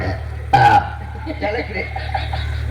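A single loud, close burp with a short tonal croak, followed by quieter background chatter and soft laughter-like sounds.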